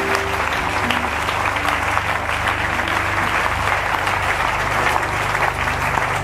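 A church congregation applauds loudly and steadily throughout, a dense, continuous clapping that fills the space with no pauses.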